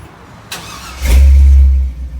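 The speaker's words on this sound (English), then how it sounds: "Starts the truck." A Chevrolet C-10 pickup truck engine cranks and fires up after a brief push-button click, settling into a loud, deep rumble before easing down slightly.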